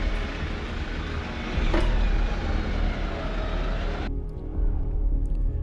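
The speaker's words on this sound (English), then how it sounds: "the Defender just sits there spinning one wheel" A Land Rover Defender engine labouring off-road while one wheel spins, a loud continuous rumble with surging revs, close up, with the hiss dropping away near the end.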